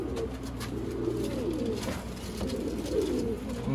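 Pigeons for sale coo in a low, throaty, repeated rolling call, close and steady, with faint background noise and no talk over it.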